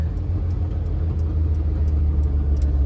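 A manual-transmission car accelerates after a shift into second gear, its engine giving a steady low rumbling drone heard from inside the cabin, with no talking.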